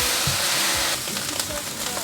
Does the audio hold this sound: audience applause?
no